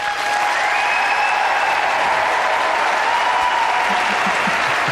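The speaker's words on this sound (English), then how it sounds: "Give it up for them now!" Studio audience applauding during a live paranormal investigation TV broadcast, a dense, steady wash of clapping with some cheering, loud and sustained throughout.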